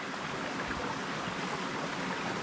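A mountain stream rushes in a steady broadband wash while water is gathered from it, close and continuous with no voices.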